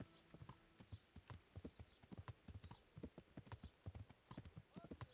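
Horse hooves clip-clop at a steady trotting pace in the Kingdom Come Deliverance video game, close and clear, with faint voices and ambient game sounds underneath.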